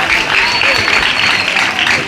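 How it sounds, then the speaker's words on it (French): Steady applause from a group at a school's end-of-year results ceremony, sustained clapping throughout with a voice or two faintly mixed in. "On peut encore applaudir, applaudissez encore."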